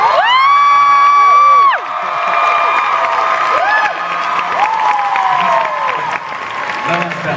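Fans at a Hogwarts reunion panel at Mega-con 2016 applaud, with high shrieks, whoops and rising cheers riding over the clapping, loud at first and then settling into a noisy crowd.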